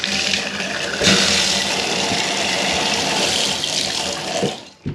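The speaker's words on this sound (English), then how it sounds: "Water's back on, let's check the tap's working fine." A bath tap, just replaced after dripping, runs with a steady, loud broadband rush of water for about five seconds, then cuts off abruptly near the end.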